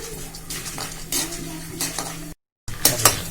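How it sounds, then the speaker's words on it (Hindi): Chana dal stirred and dry-roasted in a pan at low heat, with steady scraping of a metal spoon against the pan, light clinks and a faint sizzle, briefly dropping to silence before resuming. "ब्राउन होने तक ये चना दाल भूनूंगी"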